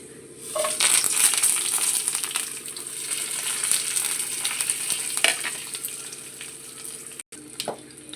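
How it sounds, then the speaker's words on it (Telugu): A tempering of garlic, cumin, mustard seeds, dry red chillies and curry leaves fries in hot oil in a kadai, a loud crackling sizzle with spattering pops and occasional stirring, briefly cutting out near the end. "తాలింపు ఫ్రై అయిపోయిందండి"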